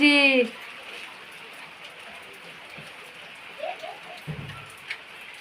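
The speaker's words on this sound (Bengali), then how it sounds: "বৃষ্টি হচ্ছে প্রচণ্ড শুক্রবার থেকে থামছে না বৃষ্টি" Rain falls steadily as a soft, even hiss, with a brief bird call at the start and a few faint knocks and thuds scattered through.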